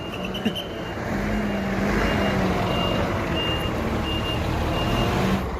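A Scania bus, number 8882, reverses at a roadside stopover, its reversing alarm giving loud, regular beeps over the steady rumble of a large idling diesel engine.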